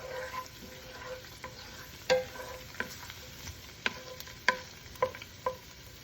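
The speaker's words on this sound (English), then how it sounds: "this is absolutely the right time to add the garlic" Garlic fries in hot oil for a venison spicy stir fry, a soft steady sizzle broken by scattered clicks and taps of stirring utensils against the pan, quiet and close, with no talk.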